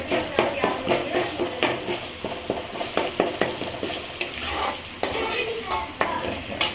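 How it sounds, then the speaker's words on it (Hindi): Chopped mushrooms frying in a masala paste, a spoon repeatedly scraping and stirring against the pan in a loose rhythm over a low, steady sizzle, with speech in between. "मशरूम डाल देंगे जो ये काटी, क्योंकि हल्की फ्राई हो जाएगी ये"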